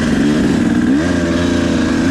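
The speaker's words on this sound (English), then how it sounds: "Now this bike is incredibly loud" Dirt bike engine revving loud and close, a steady motor roar with a rising pitch sweep partway through as it picks up, continuous for the whole stretch with no talking.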